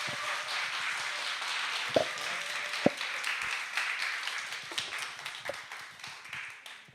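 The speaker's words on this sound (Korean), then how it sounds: "박수 부탁드리겠습니다." A church congregation applauds during a Sunday worship service, with steady clapping from many hands across the room and a few louder individual claps, gradually tapering off toward the end.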